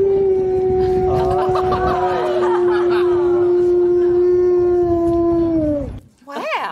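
A dog lets out one sustained, steady howl that sounds much like a boat horn, loud and close, held for about six seconds before cutting off into a brief yelp.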